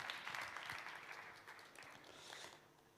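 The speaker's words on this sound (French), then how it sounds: "On l'applaudit bien fort" Audience applause at a marketing conference, a steady patter of clapping from many hands that carries on throughout, moderately distant and fairly faint.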